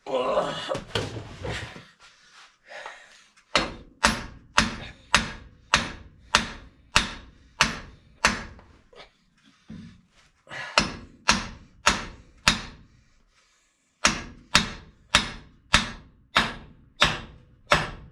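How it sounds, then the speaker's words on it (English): A hammer strikes repeatedly in quick steady bursts, sharp close thuds grouped in runs with short pauses between, after a brief moment of talk. "I need a hammer."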